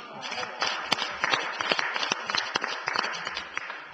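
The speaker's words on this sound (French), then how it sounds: "Je vous demande de les applaudir" Members of a territorial assembly clap during a budget session opening, a scattered patter of hands heard at moderate distance that swells and thins unevenly over several seconds.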